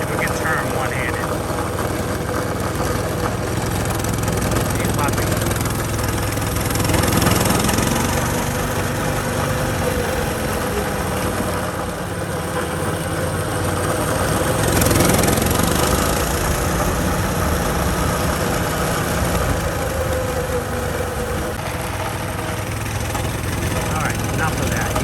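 A Honda CT200U motorbike engine runs steadily throughout, a loud, continuous idle-like drone with slight swells, while a person talks over it.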